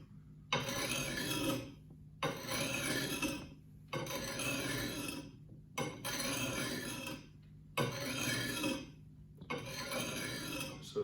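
An axe is sharpened on the coarse side of a stone: six long, even rasping strokes, each about a second and a half, separated by short pauses, close and clear with no talking.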